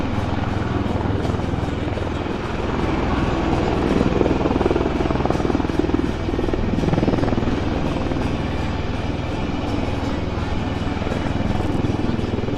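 A USMC MV-22 Osprey tiltrotor flies past at a seaside airshow, its loud, steady rotor and engine drone filling the whole stretch with a broad, continuous roar that swells slightly midway.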